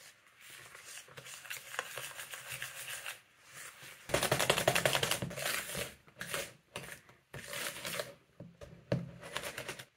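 A whisk works sea salt and spirulina into a scrub base, giving a gritty, scraping rhythm in bursts of brisk strokes separated by short pauses, close and fairly quiet.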